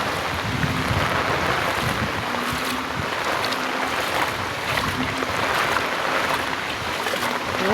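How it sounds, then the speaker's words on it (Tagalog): Heavy rain pours down steadily alongside rushing floodwater rising around a house, a dense, constant roar of water close to the microphone with no talk. "Grabe ang lakas ng ulan."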